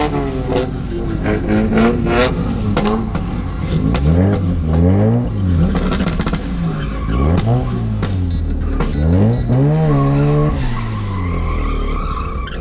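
A car drifting at a festival of speed, tires squealing loudly and continuously while the engine revs up and down in repeated rising and falling sweeps, close and dominant throughout.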